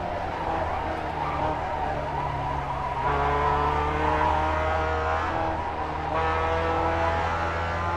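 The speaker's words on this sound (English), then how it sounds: "Now listen carefully as we hear the car with default sounds." A race car in a sim racing video game with default sound settings, its engine droning steadily with harmonic tones that shift as it changes gear, tire noise quiet underneath, loud and continuous.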